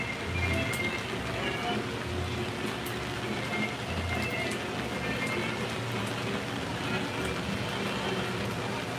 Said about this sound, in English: Lots of rain.